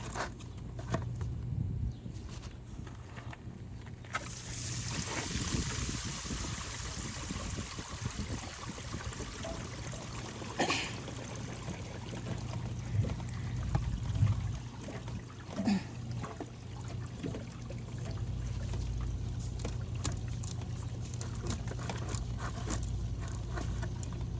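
Water rushes through the black tank pipes of a cheap camper trailer being remodeled, a steady close trickling stream that starts loud and keeps flowing with faint knocks and shuffles.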